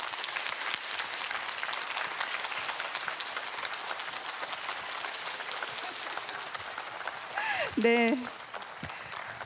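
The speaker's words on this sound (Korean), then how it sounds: "여러분 큰 박수로 맞아주시기 바랍니다." A studio audience claps warmly to welcome a lecturer onto the stage of a televised talk show, sustained applause filling the hall while a host speaks over it briefly near the end.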